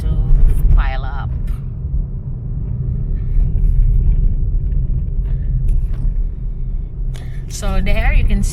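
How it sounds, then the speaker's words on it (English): Afternoon road traffic in the Philippines, with jeepneys and buses passing, gives a loud, steady low rumble of engines close by, and brief higher tones briefly cut through it. "and the influx of traffic started to pile up"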